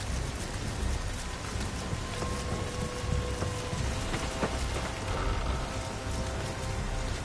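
Steady rain and storm ambience in the video game Nioh, a dense even hiss of downpour filling the scene with faint rumbling thunder underneath, continuous and without speech.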